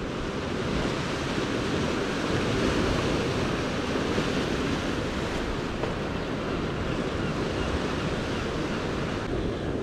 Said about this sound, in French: On laisse faire les vagues vraiment, hein.